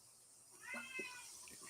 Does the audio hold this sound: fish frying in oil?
no